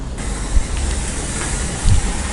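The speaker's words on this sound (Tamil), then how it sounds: "பால் கொதிக்க ஆரம்பிச்சிருச்சு." Steady hissing, bubbling rumble of milk boiling in a pot, with a couple of louder low bursts; no voices.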